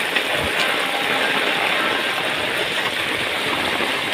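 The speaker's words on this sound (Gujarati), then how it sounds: "નદી ભરાણી હો અહીંયા તો" Floodwater rushing through a small river swollen by monsoon rain in Amreli, a steady broadband roar of flowing water that stays continuous and fairly loud throughout, with no talking.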